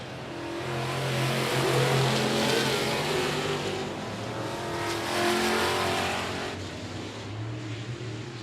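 Race car engines roar at the I-37 Speedway during a main event, a dense, sustained howl of several cars revving and passing, swelling and fading at a distance over track noise.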